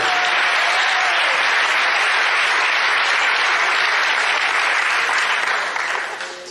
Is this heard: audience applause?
yes